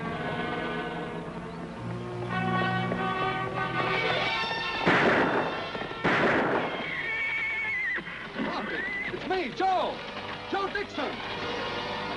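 A horse neighs loudly in a 1956 Annie Oakley western episode, with shrill whinnies rising and falling, mixed with clattering, shuffling noises and voices in the scene.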